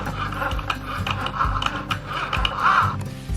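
A Cricut cutting machine slices smart iron-on holographic vinyl, giving a steady close mechanical whir broken by repeated ratcheting clicks and scraping rubs, with no talking.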